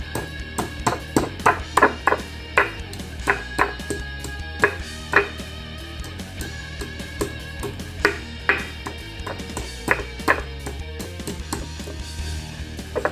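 A pestle pounds garlic in a mortar with steady, repeated thuds and knocks, close and fairly loud, with a slight ringing on some strikes and no talking.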